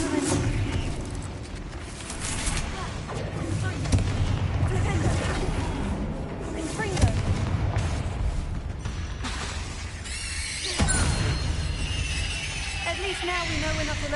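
Bombarda spell explosions in Hogwarts Legacy, a dense loud battle with sharp blasts and booming bursts, including a strong hit near the middle and another later, amid spellcasting effects and a voice.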